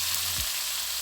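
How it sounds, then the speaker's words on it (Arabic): Sliced zucchini sautés with onion in a hot pan, a close, steady sizzle and hiss with a brief stir near the start and no talk. "هشوحها في البصل شويه نقت قوي كده"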